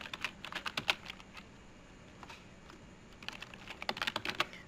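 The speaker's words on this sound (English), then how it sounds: "I'll type the URL here." Bursts of quick key clicks on a computer keyboard tap out a web address, a fast cluster, a short pause with a few scattered presses, then another rapid run, close and fairly quiet.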